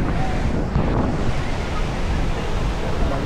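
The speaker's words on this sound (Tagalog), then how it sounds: "Kasi ang lalaki ng alon" Loud, steady roar of big ocean waves at Huntington Beach, broad and continuous, with wind buffeting the microphone throughout.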